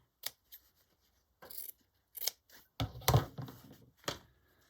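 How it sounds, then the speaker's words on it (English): Scissors cutting fabric from an old shirt: several short, crisp snips and slicing crunches close by, separated by brief pauses, the longest cut coming near the end. "So I'm just going to cut some off this piece of fabric here"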